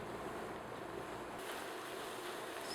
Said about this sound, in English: So I'm going to continue to cook that because I want that liquid to evaporate. So just keep sauteing.